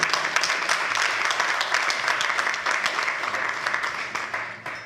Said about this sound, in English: yes please, let's applaud it.